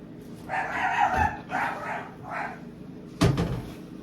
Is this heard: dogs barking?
yes